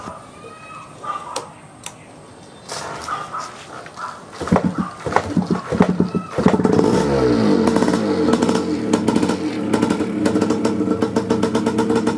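An old air-cooled Yamaha DT125 two-stroke motorcycle is kicked over with some clatter, then fires and revs up into a loud, raspy, continuous two-stroke buzz that holds steady and close.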